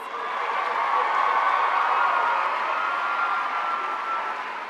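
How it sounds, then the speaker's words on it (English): A large crowd applauds and cheers continuously, a dense wash of clapping with scattered whoops, steady and moderately loud throughout. "Let's give all the groups a round of applause."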